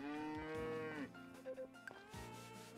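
A cow in the farming video game Story of Seasons: Friends of Mineraltown gives one long, drawn-out moo, then a few soft rubbing and shuffling game sounds, followed by a brief second tone, all quiet and with no talking.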